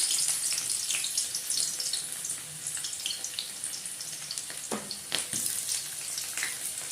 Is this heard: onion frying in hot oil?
yes